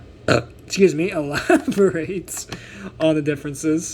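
A man lets out a short, loud burp up close, set among his own spoken sentences.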